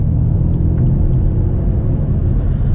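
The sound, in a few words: car exhaust sound while driving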